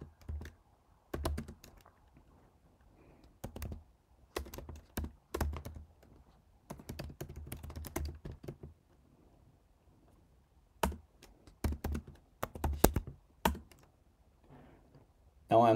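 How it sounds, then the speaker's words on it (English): Typing on a computer keyboard: clusters of quick, crisp key taps in irregular bursts separated by pauses, close and fairly quiet, with faint murmuring in the background. "Now I'm going to type the command open SSL generate RSA."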